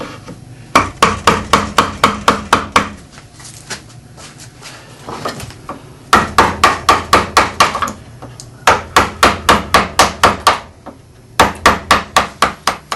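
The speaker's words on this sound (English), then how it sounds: "Take the gouge and go with the grain to try and find where that one comes round" A mallet strikes a gouge cutting along the grain of walnut wood. The blows come in quick, even runs of six to ten sharp knocks, close and loud, with short pauses between the runs.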